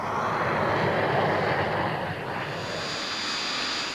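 Aircraft engine droning loud and steady as the test plane climbs after takeoff toward 16,000 feet, a continuous broadband roar with a slight shift midway and no voices.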